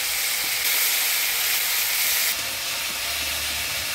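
Chilli, ginger and coriander-cumin pastes hit hot oil already tempered with cumin and radhuni seeds, producing a strong, steady hissing sizzle that swells briefly then settles, close up and with no talking.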